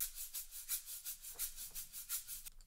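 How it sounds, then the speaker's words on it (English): Soft shaker percussion in a hip-hop beat, a steady rhythmic string of bright, hissy shakes repeating at an even pulse, quiet and close with no voices. "instead of the percussion loop, I'm using a shaker."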